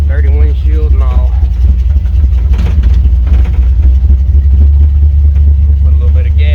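A Chevrolet C10 truck engine runs loud and close with a deep, steady rumble and slight swells in revs, while someone talks over it.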